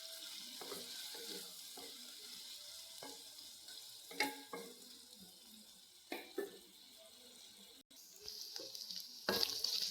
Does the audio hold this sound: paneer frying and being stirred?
yes